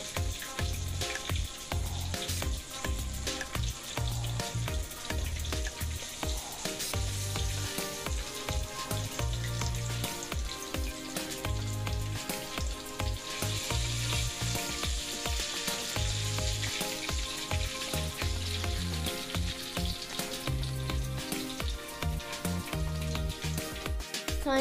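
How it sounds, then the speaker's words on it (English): Fish frying in hot oil for a Guyanese-style fish curry, a dense, continuous close sizzle and crackle with scattered pops throughout, no voices. "Now we are going to take the fish out of the oil."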